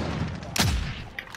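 A single loud, close gunshot in a video game cracks out sharply and decays into a short booming tail, with low game ambience before and after.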